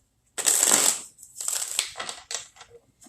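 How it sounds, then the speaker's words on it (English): Tarot cards are shuffled in bursts of crisp riffling and soft slapping, close and alone, with short pauses between passes. "I'm shuffling, Birdie."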